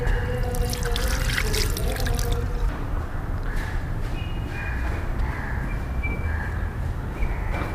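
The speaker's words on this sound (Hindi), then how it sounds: "तो सबसे पहले हाथ धो लेते हैं।" Running water pours from a canteen tap at a seafarers' hostel in Kolkata while hands are washed, a loud steady close splash with changing trickles as the hands move under the stream.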